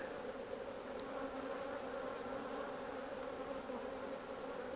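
Honey bees buzzing around an opened hive during an inspection, a steady, even drone of many insects that stays faint and constant throughout.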